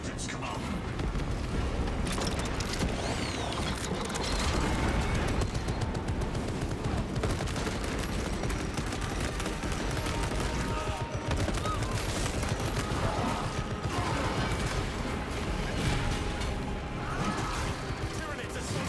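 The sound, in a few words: turrets firing in a space video game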